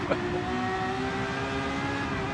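A race car engine in the video game Gran Turismo 7 drones at a steady high pitch, loud and continuous, with a brief click near the start.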